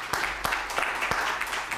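A church congregation claps for the liturgist during a worship service, with distinct rhythmic hand claps standing out over a continuous bed of applause, close and moderately loud.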